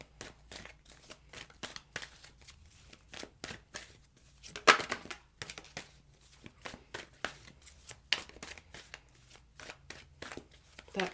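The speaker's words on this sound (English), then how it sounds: "let me just shuffle a few more times here" Tarot cards being shuffled in repeated quick riffles and bursts, close up, with short pauses between rounds and no talking.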